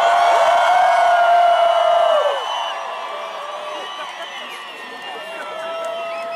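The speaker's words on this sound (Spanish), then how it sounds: "¡Vamos a despedirlo! ¡Un grito!" A concert crowd at Rock al Parque 2019 in Bogotá gives a long, loud collective shout as a farewell to a performer, then the yell fades into scattered crowd noise.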